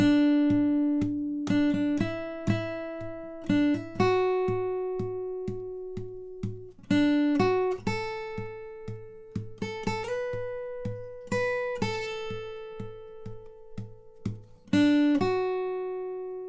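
Guitar playing the first line of a song's tab, plucked single notes and chord tones ringing out one after another over a steady tapped beat keeping time, fairly quiet and unaccompanied by talk.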